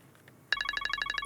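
A telephone starts ringing abruptly after a quiet moment, sounding as a rapid, even train of bright electronic rings, close and clear.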